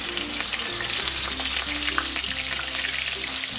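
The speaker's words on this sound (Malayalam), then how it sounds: "എണ്ണ ചൂടാവുമ്പോഴേക്ക് ഈ മസാല തേച്ച് വെച്ചിരിക്കുന്ന ഫിഷ് ഇതിലിട്ട്" Masala-coated fish frying in hot coconut oil in a pan gives a steady, loud, continuous sizzle with crackling spatter throughout, no voices.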